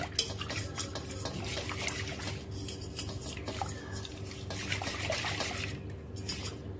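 Butter being stirred through water in a cooking pot while making desi ghee from cream, giving a steady scraping and sloshing of spoon against metal with faint clinks, continuous and close.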